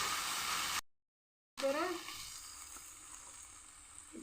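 Taro stolons sautéing in a pan for a taro stolon and shrimp curry, a bright sizzle that cuts out briefly, then returns with a few clinks of stirring before settling into a softer, steady fry.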